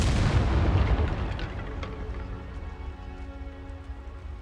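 A Confringo fire spell in Hogwarts Legacy bursts with a loud, deep booming explosion right at the start, then a rumbling roar that slowly fades and lingers to the end.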